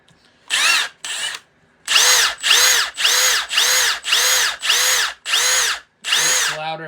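Milwaukee Fuel brushless impact driver on its third, highest mode, firing eight loud, close bursts of hammering whine, each about half a second with short gaps between, preceded by two shorter pulses.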